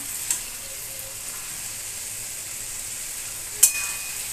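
A soft, steady sizzle of soybean chunks frying in a pan, with a couple of brief clinks from a utensil.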